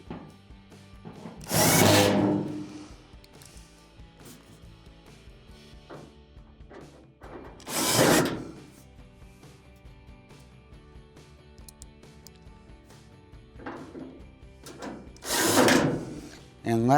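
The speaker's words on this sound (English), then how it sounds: "now we can just start screwing all of our screws in around the perimeter" A power drill drives screws around the perimeter of an Amana dryer panel during a repair, with four separate whirring bursts of about a second each, divided by quieter stretches of handling noise.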